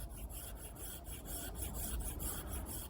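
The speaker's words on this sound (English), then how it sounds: "but you can also do finer shavings like this," Fine wood shavings carved with an Opinel No. 8 knife produce quiet, rhythmic rasping strokes, repeated steadily at close range with no voices.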